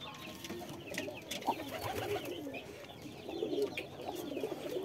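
Pigeons cooing in an indoor loft where a nest holds two squabs, low soft coos repeating steadily at close range with faint chirps, no voices.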